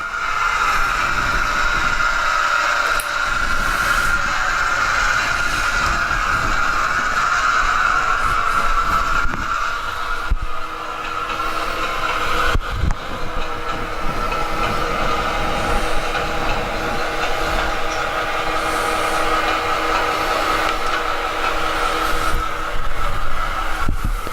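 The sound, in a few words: model train locomotive decelerating, ProtoThrottle braking demonstration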